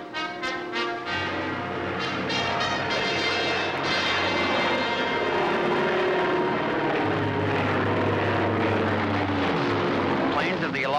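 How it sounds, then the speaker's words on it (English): Droning engines of Allied military bomber planes roar steadily overhead in World War II footage, a loud continuous hum with shifting pitch, under someone talking. "Planes of the Allied Air Force bomb German positions along a narrow front at San Lo"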